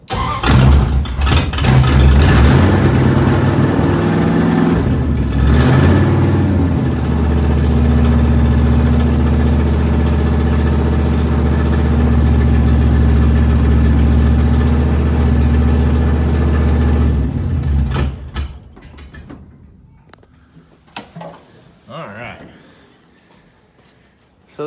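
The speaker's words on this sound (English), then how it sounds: "I think we're good to drive this thing, actually, once we get her idling." A 1971 Plymouth Barracuda with open headers fires up and runs loud and close, a deep rumbling idle with a few revs that lasts most of the time before the engine shuts off, followed by quieter clatter and a voice.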